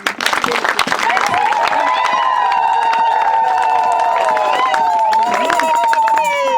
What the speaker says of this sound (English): let's give God a big round of applause.